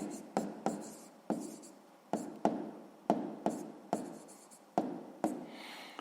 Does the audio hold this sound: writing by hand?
yes